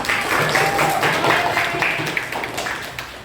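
Students in a seventh-grade classroom clap together for a few seconds, a dense patter of hands with some sharper individual claps, fading slightly toward the end.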